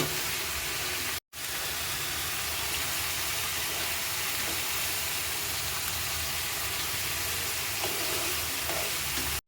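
Hilsa fish braising in a pan gives off a steady, dense sizzle with a constant frying hiss, close and loud, broken by one very brief dropout early on.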